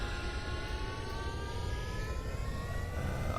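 Jet engines on a VTOL SSTO spaceplane in Kerbal Space Program throttle up together, giving a steady, loud roar with a rising whine that holds alone throughout.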